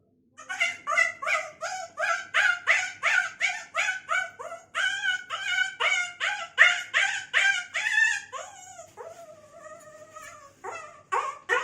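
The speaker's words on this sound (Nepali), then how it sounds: "कुकुरको बच्चाको आवाज तपाईँहरूको लागि।" A puppy whimpering and yipping in a rapid run of short, high, pitch-bending cries, loud and close, ending in a few longer drawn-out whines.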